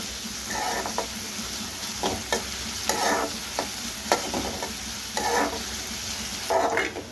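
Onion and garlic fry in oil in a kadai for mutton masala, giving a constant hiss of sizzling, broken by repeated bursts of scraping as the spatula stirs every second or so.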